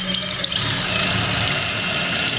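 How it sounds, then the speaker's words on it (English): A power drill bores a 1 1/8-inch hole for an above-ground garden build, giving a steady, close, continuous whirring whine with no talk. "So we're just going to go ahead and drill this to the 1 1/8."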